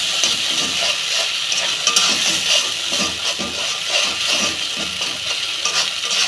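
Ginger with turmeric, chilli powder and green chillies being sautéed in a pan for a prawn and brinjal dish, a continuous close sizzle with scraping stirs giving it a rough, rhythmic texture throughout.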